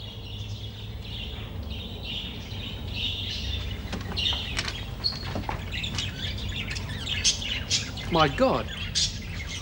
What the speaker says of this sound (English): It looks like a bloody aviary